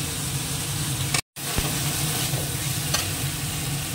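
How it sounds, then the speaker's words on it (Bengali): Raw spices, onion and garlic sizzle and fry steadily in a pan while being stirred, a continuous close crackle with one brief dropout and faint scrapes of the spoon. "কাঁচা মশলাগুলো একটুখানি আগে কষিয়ে নিই ভালো করে"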